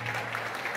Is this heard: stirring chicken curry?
no